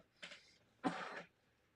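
Two short, muffled coughs, soft and dampened, the second slightly stronger, with quiet in between.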